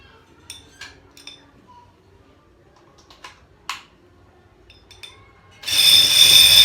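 After a stretch of light clicks and handling taps, a sewing machine winding a bobbin kicks in with a loud, steady motor whir that runs to the end.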